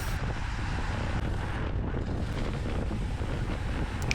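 Steady wind buffeting a microphone during a nervous, fast-moving cycling race in the peloton, a continuous loud rumbling roar with no pauses and no talking.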